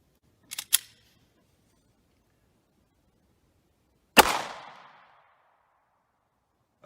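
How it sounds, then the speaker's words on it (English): Two pistol shots from 30 Super Carry rounds ring out at a shooting range: a sharp double crack early, then a louder report a few seconds later with a fading echo tail. "Next up, we'll try the 30 Super Carry. Shooting from the same distance."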